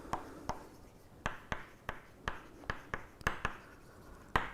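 Chalk or marker strokes on a board while writing a plus sign in a set-theory lesson, a series of sharp, evenly spaced taps and short scratches, close and fairly quiet, with no talk.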